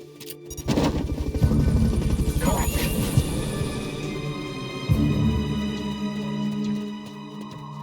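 A helicopter in the video game Metal Gear Solid Peace Walker throbs with rapid rotor chop and engine roar, loud and close, swelling and fading with sharp game sound effects mixed in.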